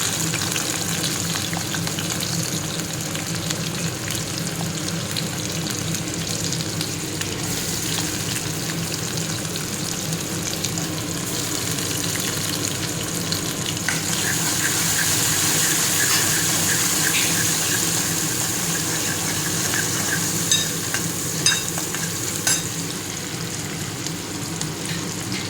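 Mustard seeds, shallots and garlic fry in hot oil with a steady, close sizzle, crackling and popping briefly here and there, and no talking over the long hiss.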